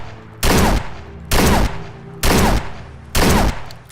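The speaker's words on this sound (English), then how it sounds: "I'm gonna shoot this thing as fast as I possibly can." Four loud, evenly spaced revolver shots from an M2019 Detective Special mod in Fallout 4, fired as fast as the trigger allows, each blast about a second apart with a short ringing tail over low background hum.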